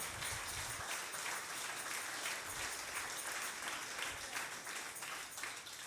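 Sustained applause from a church congregation fills the space, dense and steady from start to finish at moderate distance, with no talking over it.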